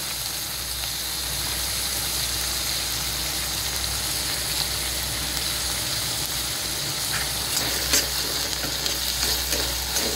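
Tomato with ginger-garlic-chili paste fries in a pan with a constant hiss and bubbling, a spoon stirring through it now and then, close-up and without speech.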